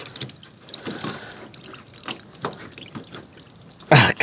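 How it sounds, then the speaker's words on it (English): Water drips and trickles from a cracked seal on a Samsung front-load washing machine with a clogged drain, a run of close irregular drips and splashes ending in a louder splatter. "There's more water coming out of this cracked seal around this"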